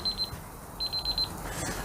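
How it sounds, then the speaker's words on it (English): A kitchen timer beeping while steak cooks, two quick bursts of rapid high electronic beeps separated by a short pause, clear and close over faint background noise. "there's my timer again"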